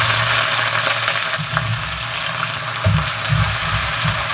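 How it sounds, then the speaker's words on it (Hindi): Chopped onions sizzle steadily in hot cooking oil in a kadhai, a loud continuous crackle with a few soft stirring scrapes and knocks, and no voices. "प्याज को अच्छी तरह से फ्राई कर लेंगे"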